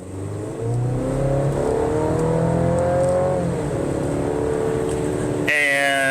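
A midsize Ford Ranger or Chevy Colorado pickup truck drives along with a steady, loud engine drone and rising revs, road noise constant throughout and a brief change in tone near the end.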